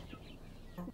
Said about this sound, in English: The women take care of the hens themselves.